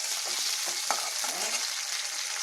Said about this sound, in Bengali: দেখো বন্ধুরা, পেঁয়াজটা কিন্তু ভাজা ভাজা হয়ে গেছে।